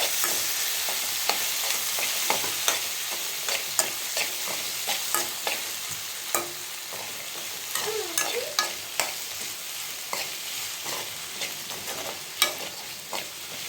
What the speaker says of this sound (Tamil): இப்போ வந்து தக்காளி நல்லா வதக்கிக்கலாம்.